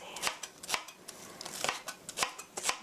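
A knife slices green onion on a cutting board in a series of sharp, close taps. The chops come in quick, slightly irregular bursts, with no talking.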